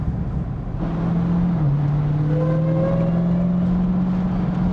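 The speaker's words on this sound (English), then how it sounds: "Well, you hear that supercharger just whine." A supercharged 2023 Dodge Demon 170, rated at 1,025 horsepower on E85, runs with a steady, loud supercharger whine. The whine rises slightly in pitch over a continuous engine drone, with no talk.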